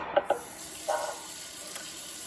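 Hot water at about 95 degrees pours for Neapolitan pizza dough, a brief splashing trickle after a couple of sharp taps nearby, fairly quiet with no one speaking.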